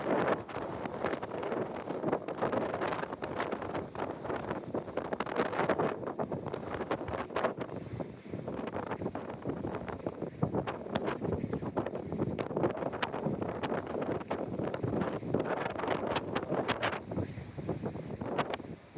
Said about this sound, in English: Very windy, gusty.